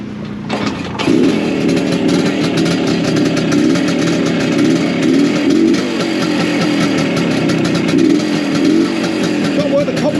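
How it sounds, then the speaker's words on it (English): An old BSA motorcycle engine starts up and runs steadily, a loud, close, throbbing single-note drone with slight lumpy pulsing that holds for several seconds after a brief quiet lead-in. "See if the old girl goes, eh? I'll probably come around that way with this little bike."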